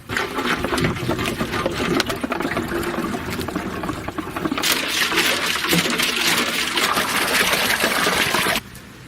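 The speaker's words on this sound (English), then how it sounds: "And now we just need water, water, and water. Continue to go with the water and clean this tank inside." Water rushes and sloshes continuously inside a motorcycle fuel tank being rinsed of rust, a loud, dense splashing that keeps up for most of the time before cutting off abruptly near the end.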